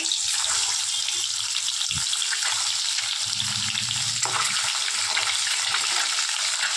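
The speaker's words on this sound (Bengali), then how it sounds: "ডিমগুলো আমি ভেজে নিচ্ছি।" Duck eggs frying in a pan of hot oil, giving a steady, loud sizzle with a few soft utensil touches and no voices.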